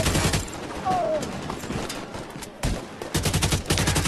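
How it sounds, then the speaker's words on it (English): Distant bursts of automatic gunfire crackle through a firefight in The Division 2, rapid repeated shots coming in clusters at the start and again near the end, fairly loud but with a far-off character. "I can hear the pat, pat, pat, pat, pat, pat. Shooting at a distance."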